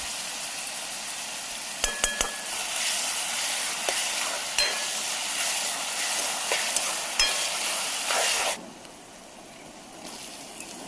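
Onions frying with a little salt for a fish curry cooked outdoors in a forest, a steady bright sizzle with scattered stirring clinks that drops off sharply near the end.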